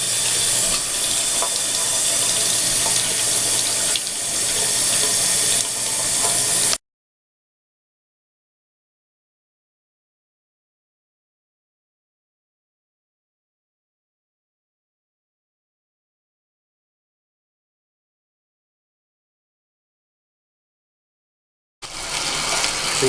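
Water gushes loudly and steadily from a loose bathtub faucet that won't shut off, cutting out abruptly to silence after several seconds, then surging back in at the very end.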